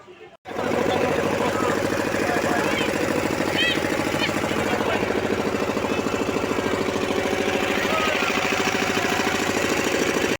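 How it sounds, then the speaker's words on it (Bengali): A wooden country boat's motor chugs steadily during a river crossing, a close, continuous, even mechanical knocking that starts abruptly and lasts the whole time. Faint voices and bird-like chirps sit beneath it. "নৌকা করে আমরা যাচ্ছি ওই পাড়টায়"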